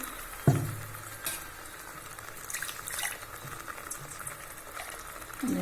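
Soft sizzling and bubbling as a ground paste sautés in hot ghee in a pan, quiet and continuous, with a sharp clatter at the start and occasional small pops.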